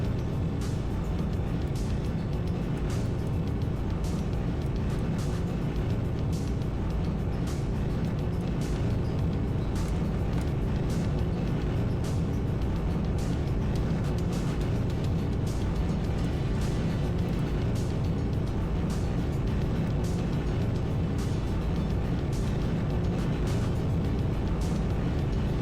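A rocket engine in Kerbal Space Program roars during ascent as a constant dense rumble that holds steady and loud throughout, with no pauses and no talk.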